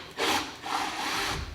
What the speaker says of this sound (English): let's go ahead and start drilling